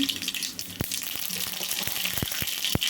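Mustard seeds crackle in about three spoons of hot oil, with a steady sizzle and scattered sharp pops spread through it, heard close up.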